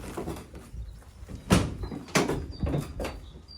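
The doors of a 2015 Ford Transit Connect 1.6 TDCi L2H1 van with 100k miles are opened, giving several loud clunks and latch thuds spaced about a second apart, close by.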